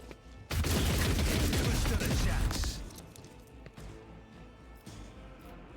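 A gunfire barrage in the video game Warhammer 40k Rogue Trader, a dense loud burst of rapid shots lasting about two seconds, then fading into scattered lighter impacts and game noise.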